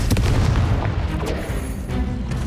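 Confringo fire spell cast in the Hogwarts Legacy video game, giving a sustained loud, booming fiery blast with heavy low rumble for a couple of seconds and no voices over it.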